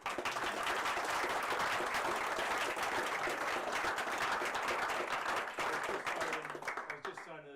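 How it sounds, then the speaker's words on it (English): A large audience applauds loudly and steadily after a talk by Patrick Brown, dense clapping filling the room before tapering off near the end as a voice begins. "huge round of applause and thanks to Pat"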